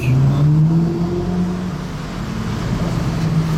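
A wide sports car's engine hums loudly nearby with a low droning tone, rising slightly as it moves past on a street in Monaco.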